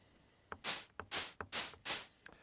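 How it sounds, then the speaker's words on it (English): Four bursts of synthesized white noise in Phase Plant, each a loud rushing hiss that swells and fades, evenly spaced and preceded by short clicky transients. "And then we've got some white noise here."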